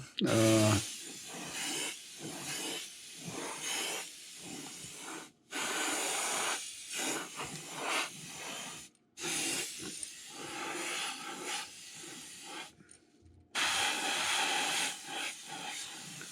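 Spray paint hisses onto a custom fishing lure in a series of close, breathy bursts, each lasting a second or more and separated by short silent pauses.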